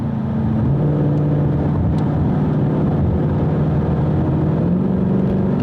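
A modded Kona Blue Ford Mustang GT cruises through a corner, its engine a steady loud drone from inside the car, with the pitch shifting slightly as the revs settle and rise again.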